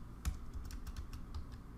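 An email is typed on a computer keyboard in Microsoft Outlook, a quick run of soft, close keystrokes ticking along at an even pace, fairly quiet, with no voice.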